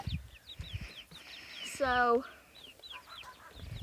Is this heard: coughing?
no